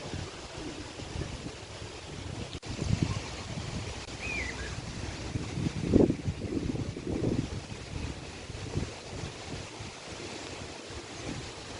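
Strong wind gusts through an outdoor park, blowing leaves and dust, heard as a rough buffeting roar against the microphone that swells and eases, with no talking.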